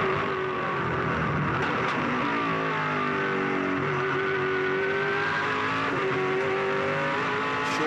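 A race car at the 2007 Bathurst 1000 Top 10 Shootout roars steadily at high revs from onboard, with pitch dips as it short-shifts from second to third gear, loud and continuous without talk.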